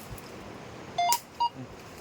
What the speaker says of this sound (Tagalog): Imo nang relo ang tingugan.